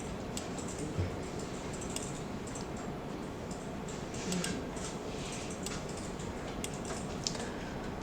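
Keys on a computer keyboard tapped while entering text in Photoshop, a steady run of light, quick clicks over a low background hum.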